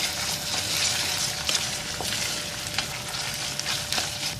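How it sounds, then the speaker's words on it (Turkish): Ground meat, potatoes and other ingredients sautéing in a pan with tomato paste: a steady, close sizzle and frying hiss, broken by occasional scrapes and stirring clicks. "Şimdi biraz da bu malzemelerimizi güzelce kavuralım"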